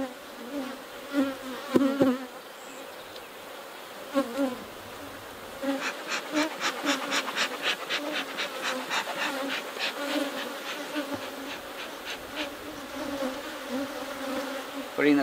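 Honey bees from an opened backyard hive split drone in a steady, close buzz that swells and fades as insects fly past, with a few faint knocks from handling equipment and no talking.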